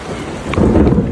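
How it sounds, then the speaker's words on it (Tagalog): Heavy rain in a thunderstorm roars close to the microphone with wind buffeting, a deep rumble swelling midway through the short burst. "sobrang lakas ng ulan"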